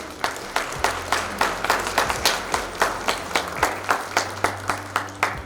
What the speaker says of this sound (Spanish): Les pediría un aplauso, por favor,